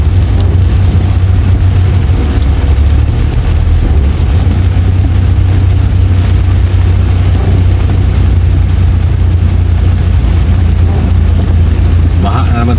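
Constant loud rumble of road traffic on a flooded street in heavy rain, with dense low engine noise and wash filling the whole stretch without letup.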